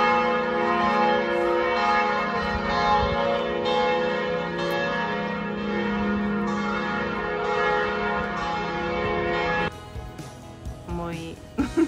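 Church bells ring at St. Stephen's Basilica, a rich, layered peal that rolls on steadily, then thins and falters near the end.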